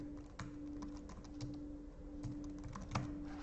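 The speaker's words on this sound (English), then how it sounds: "let me just go and type in Accelerate Marketing on the iPhone Maps application really quickly" Fingers tap quickly on an iPhone's on-screen keyboard while typing into the Maps app, producing a series of faint, sharp clicks in an irregular rhythm over a quiet, steady background hum.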